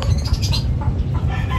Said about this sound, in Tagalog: Ayun yung kalapati natin.